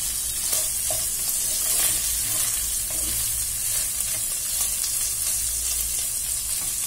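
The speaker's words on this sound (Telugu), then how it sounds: "చికెన్ వేగాలి, చికెన్ వేగుతుంది." Chicken pieces fry in a pan for fried rice, a constant close sizzle with scattered crackles and faint stirring clicks, heard alone without talk.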